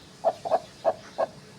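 Two hens sitting on their chicks in a farmyard, giving four short, fairly close clucking calls at a slow, uneven pace, with no talk over them.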